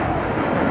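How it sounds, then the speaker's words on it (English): An airplane passes overhead near a busy airport with a loud, steady broadband roar filling the short stretch, with no talking. "Another plane."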